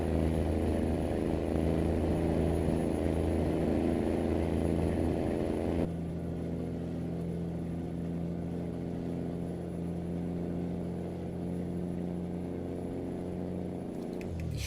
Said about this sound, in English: If I put my foot down all the way, drops down 2 gears instantly, and you just get that amazing sound